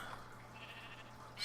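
A Minecraft sheep bleats faintly in a Feed the Beast Unleashed modded world, one short quiet bleat over a low hum of background game ambience.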